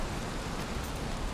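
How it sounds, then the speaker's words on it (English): Rain in the video game Valheim, a dense, even hiss of falling rain that stays constant and fairly loud throughout, with no voices over it. "Is it raining outside? I guarantee it is."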